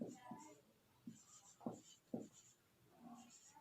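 Chalk or marker writing on a board during a physics lecture, faint scratchy strokes in short bursts, heard alongside a teacher's quiet speaking voice.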